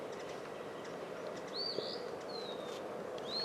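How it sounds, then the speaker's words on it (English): An Eastern Phoebe calls faintly from high up in Warbler Woods near New Braunfels, giving a few brief raspy notes over quiet outdoor ambience, with no talk. "Hearing it up there, going Phoebe, Phoebe."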